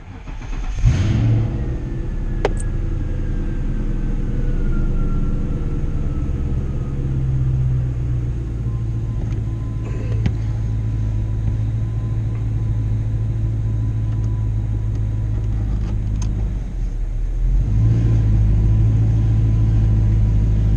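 A Ford Mustang on nitrous idles with a deep rumble, then the engine revs and holds a steady droning note for a long stretch before dropping back and rising again, loud and close from inside the car.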